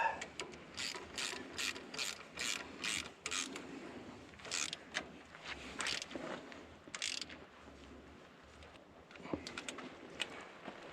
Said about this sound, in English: I tend to use a shorter ratchet